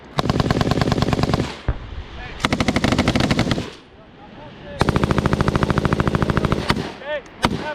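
Machine guns fire during military training in three long, loud, rapid bursts separated by short pauses, with a few single shots at the end and shouted commands in between.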